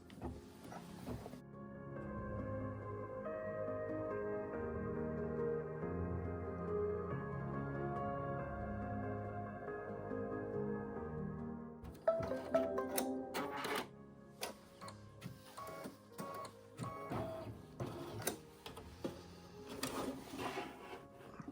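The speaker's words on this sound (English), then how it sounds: "So we're just going to stitch out our placement line." A machine stitches a placement line on a zipper pouch, a quiet steady mechanical hum for about ten seconds, followed by intermittent clicks, taps and handling noises.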